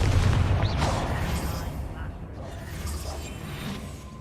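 A Confringo fire-blast spell goes off in Hogwarts Legacy as a loud opening burst, then a rumbling, crackling roar that slowly fades over several seconds.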